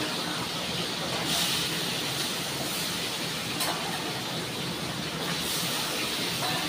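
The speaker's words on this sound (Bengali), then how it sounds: "এবার মাছগুলো আমি ছাড়বো" Fish sizzle in hot oil in a pan, a steady, dense hiss that fills the whole stretch evenly at close range, with no voices.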